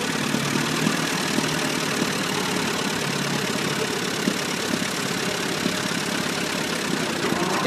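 An eight-cylinder car engine idles with a steady, even rumble and a faint knocking undertone, close by and unbroken for several seconds, with no talk.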